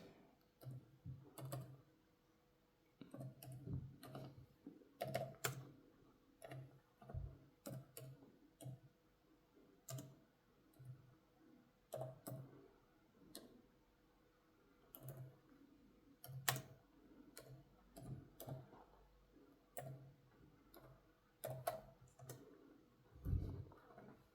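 Quick bursts of clicks come from a computer keyboard typed with one hand, light taps in uneven clusters with short pauses, close and fairly quiet.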